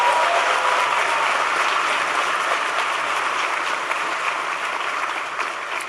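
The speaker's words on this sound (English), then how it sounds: "Give them a big round of applause for their support." A large audience of young African leaders at a town hall with President Obama bursts into sustained applause, a dense, even wash of clapping that holds steady for several seconds before easing slightly.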